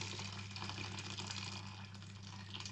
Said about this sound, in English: add the hot water to the red lentils